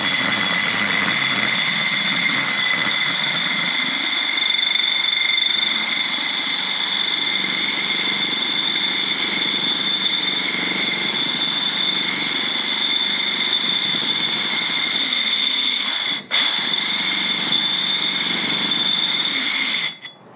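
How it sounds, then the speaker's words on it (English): A power drill bores holes through a large ceramic pot, a loud continuous whine and grind that holds steady for the whole stretch before cutting out briefly near the end. "this one I'm going to drill 3 holes because the pot's so big."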